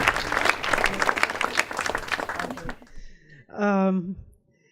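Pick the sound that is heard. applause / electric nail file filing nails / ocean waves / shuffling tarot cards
applause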